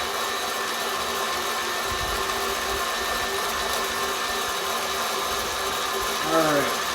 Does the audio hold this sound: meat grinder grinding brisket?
yes